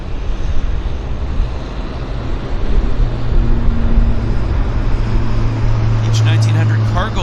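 A Beechcraft 1900 cargo plane takes off at Vancouver airport, its turboprop engines droning steadily and rising in pitch as it rolls, heard from a distance under people talking.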